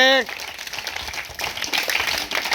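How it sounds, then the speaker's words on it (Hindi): Children in a school assembly clap together, a busy, moderately loud patter of many hands that follows a brief voice and swells slightly toward the end. "ये ताली बजाइए जोर से।"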